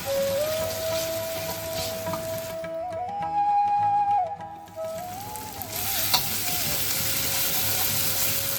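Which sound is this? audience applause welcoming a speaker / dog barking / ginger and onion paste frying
ginger and onion paste frying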